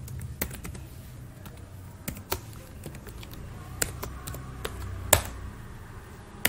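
Sporadic keystrokes on a computer keyboard as test code is written, crisp individual clicks spaced irregularly with occasional louder taps, close and alone over faint background hiss.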